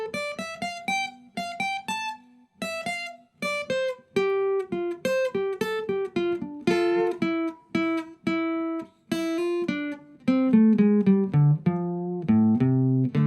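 Guitar phrases built on bent double stops, played alone in short repeated bursts with brief pauses between them, each bend sliding up in pitch and ringing out close and clear.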